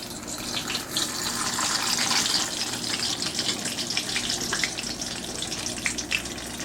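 Hot dandelion-infused oil pours and trickles through a strainer in a steady, close liquid rush that carries on for several seconds with faint dripping, and nobody speaks.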